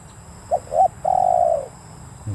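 One cooing call from a spotted dove during an outdoor dove-luring session: two short clipped notes, then a drawn-out rolling coo, near and distinct against a quiet, hissy background.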